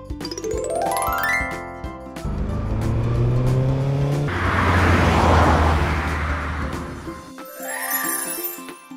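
A motorcycle engine roars and revs, building to a loud, sustained growl with music playing behind it before it drops away.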